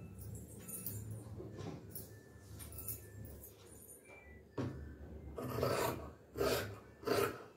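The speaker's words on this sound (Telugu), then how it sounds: "ఇప్పుడు మనము ఇది కటింగ్ చేసేసుకుందాము." Scissors cutting cotton fabric for Punjabi salwar dress pants, a steady close rasping snip and drag across the cloth that grows louder in short strokes toward the end, with no talking.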